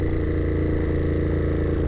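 A 2021 Ducati Monster 937 engine runs close and steady during a downshift, a low rumbling drone with no clear change in pitch and no speech.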